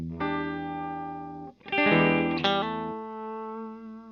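Electric guitar lead played through a Fender phaser pedal, sustained distorted notes and a bent chord that swell and sweep in and out, ringing clearly on their own.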